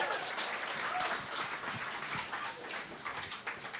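An audience at a women-in-science evening applauds female presenters, a soft, fairly distant patter of clapping that lingers evenly with faint murmurs underneath.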